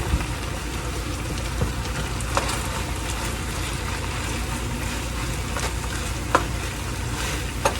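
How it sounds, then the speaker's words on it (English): Cabbage being stirred into a farmhouse stew in a pot, with a soft steady sizzle and a few scattered scraping clicks of the spoon against the pan, moderately close. "And stir it a little bit"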